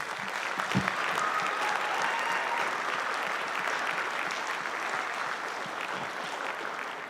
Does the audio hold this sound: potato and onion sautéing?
no